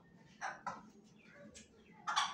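A small Golden Sebright chicken, a breed from Indonesia, makes a few soft, short clucks in quick bursts, fairly faint and close by, with a brief louder call at the end.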